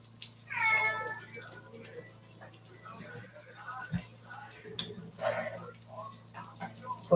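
A house cat meows a couple of times nearby in a kitchen, short rising cries over low steady background hum, with some faint clatter between them.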